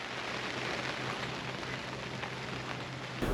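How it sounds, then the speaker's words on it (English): Rain pattering steadily on the surface of a fishing lake at Todber Manor Fisheries, a soft, even hiss with scattered drops, faint and continuous, with a brief louder bump at the very end. "So the rain is starting to come in now."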